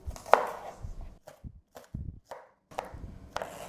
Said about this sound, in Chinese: 现在我要用菜刀切葱